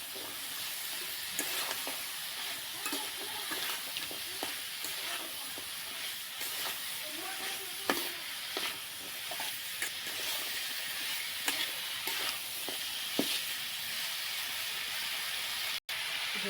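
Fish curry with noti greens and jackfruit seeds simmering in a pan makes a steady hiss and gentle sizzle close by, dotted with small pops and occasional stirring clinks.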